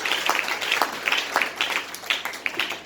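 A church congregation applauds in praise of God, steady clapping from many hands spread through the room at moderate loudness, with no talk.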